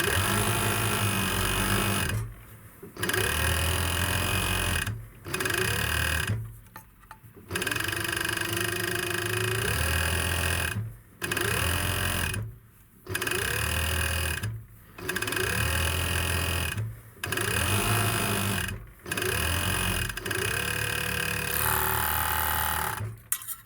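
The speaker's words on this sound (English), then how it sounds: "I stitched the bottom of the skirt." A sewing machine stitches the hem along the bottom of a skirt in steady runs of rapid mechanical whirring, broken by about ten short pauses between bursts; the motor is close and fairly loud, with no talking.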